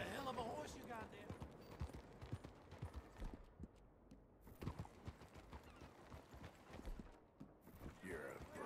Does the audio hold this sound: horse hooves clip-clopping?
yes